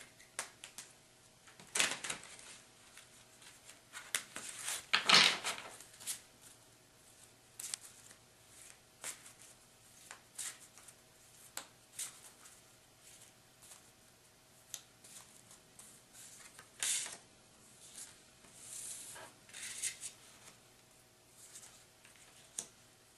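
Cards shuffled by hand for a monthly card reading, heard as quiet, irregular riffling and slapping bursts spread over about twenty seconds, with no talking.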